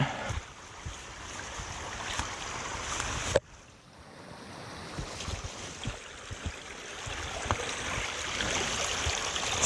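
Spring water rushes and gurgles steadily nearby, welling from the ground beside a river in the Hérault; the flow briefly cuts off partway through, then swells back up.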